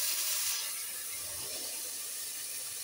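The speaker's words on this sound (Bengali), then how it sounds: "আমি একটু পরিমাণ মতো পানি দিয়ে দিলাম, ফোটানো পানি দিলাম" Boiled water poured onto fried pulao rice in a pot makes a broad hissing, steamy rush that is loudest at the start and then settles into a steady, even wash of sound without any voices.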